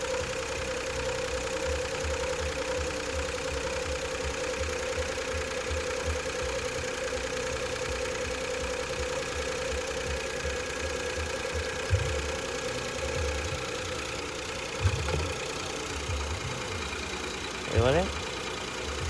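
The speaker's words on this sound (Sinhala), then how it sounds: "දැන් හරි. දැන් මොකුත් නැහැ. එන්ජින් එක දුවන බටර් වගේ" An engine idling steadily after engine oil and water were added, a constant low rhythmic hum with a faint tonal whine, fairly quiet, with a few brief knocks and bumps later on.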